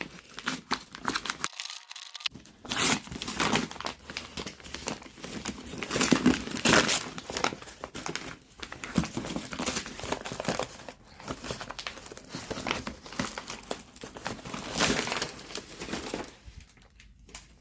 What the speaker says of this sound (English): So it's like literally the box wrapped with some paper.